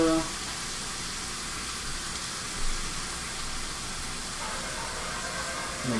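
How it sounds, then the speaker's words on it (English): Ribeye steak sizzles in a pan for a stir fry, a steady broad hiss that holds at an even level throughout, close and with no talking over it. "Our steak's already sizzling,"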